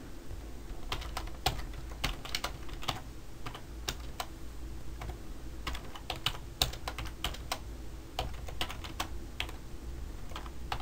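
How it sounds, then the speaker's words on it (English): Steady, close clicking of computer keyboard keys as a figure caption is typed into a Word document, with irregular key taps over a low background hum and no speech. "I will type the caption for figure 1"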